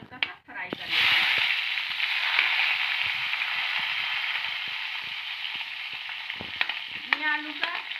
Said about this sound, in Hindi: सबसे पहले मैं ये आलू को हल्का सा फ्राई कर लेती हूँ।